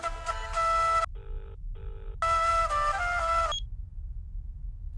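A telephone rings in a dubbed South Indian film scene, with bursts of electronic ringtone separated by short gaps, fairly loud and close over a low background rumble, with no talking.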